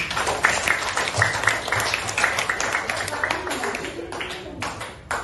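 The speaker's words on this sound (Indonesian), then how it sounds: "Untuk itu kita beri aplaus untuk kelompok kinestesi. Tepuk tangan." Classroom students clap for a presenting group during a lesson, uneven scattered claps from a small group rather than a full crowd, thinning out with a voice faintly present near the end.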